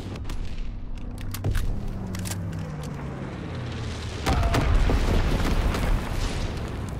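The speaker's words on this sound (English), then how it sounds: "Incendiary bombs incoming." Incendiary bombs dropped by an enemy bomber in Call of Duty: WWII detonate in a rolling series of deep booms and crackling blasts, with a low droning aircraft passing and a heavier blast cluster near the end.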